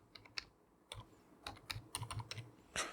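Someone types a PAN number on a computer keyboard to log in to the income tax e-filing portal, with quiet, irregular clicking keystrokes, some in quick clusters, heard close up with no voices.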